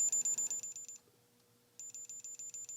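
An electronic logic probe on a TI-99/4A motherboard's clock signal gives a rapid series of short, high beeps in an even rhythm, a brief pause, then the regular beeping resumes; close and fairly quiet.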